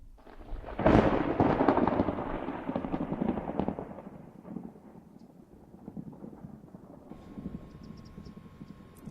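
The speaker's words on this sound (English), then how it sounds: "I like that typical book starts with a thunder crack" A loud thunder crack bursts out, then rolls and rumbles away over several seconds before fading into a quieter, steady background.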